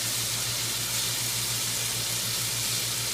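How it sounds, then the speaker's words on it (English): Bacon sizzles steadily in a pan as it is stirred, a dense, even hiss of frying fat with faint scraping underneath, close and continuous with no talking. "Be sure to stir your bacon so it all caramelizes very nicely while this comes to temp."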